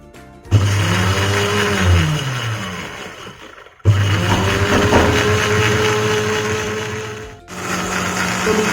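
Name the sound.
blender running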